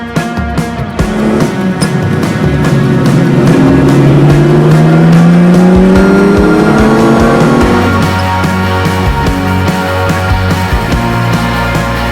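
A 1969 Lamborghini Miura P400S engine revs hard and close, its pitch sweeping up through the gears in a loud, raspy climb before settling back to a rumbling idle.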